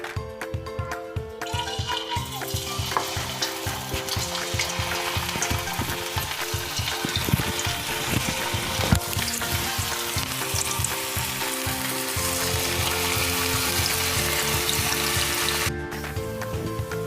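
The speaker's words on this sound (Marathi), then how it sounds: "तेल चांगल्या प्रकारे गरम झालं आहे. मस्त बबल्स आले. आपण आता याचे भजी टाकून घेऊ." Crispy corn fritters (bhaji) sizzle in hot oil, a loud, continuous bubbling fry heard up close, with the sizzle building and holding steady throughout and no talking over it.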